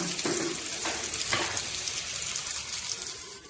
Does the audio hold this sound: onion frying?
yes